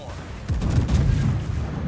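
Heavy warship guns in a naval battle video game boom in a rumbling salvo, a low, loud volley rolling on after a quiet start.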